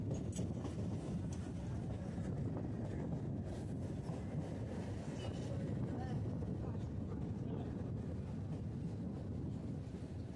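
Hasnabad line local train running between stations, a continuous low rumble and rattle of the moving carriage with wind buffeting, heard from onboard, steady throughout.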